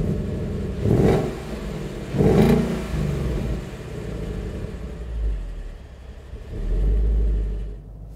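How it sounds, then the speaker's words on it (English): A 2015-2017 Ford Mustang GT V8 with its factory stock exhaust, revved twice in quick sharp blips that fall back to a deep idle rumble, then two slower, heavier pulls low in the bass, heard up close. "we'll start off with some sound clips of the factory exhaust"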